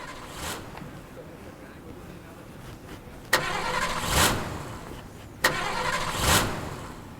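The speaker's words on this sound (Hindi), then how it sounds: "गाड़ी चालू नहीं हो रही?" A car's starter cranks twice in separate attempts, each a sudden mechanical burst that rises into a brief engine swell and then dies away without catching, over a quiet background.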